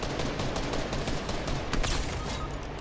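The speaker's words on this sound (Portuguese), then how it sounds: "que tiro foi esse?" Dense, continuous gunfire crackles loudly and without pause, like rapid automatic shots in a video game, with no talking.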